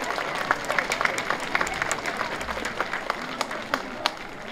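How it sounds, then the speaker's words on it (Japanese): An outdoor crowd at the 37th Minamihata Furusato Festival in Fujimi, Saitama, applauds steadily, with individual sharp claps standing out above a continuous wash of clapping, moderately loud and spread across the space. "また大きな拍手でもう一度お願いいたします。"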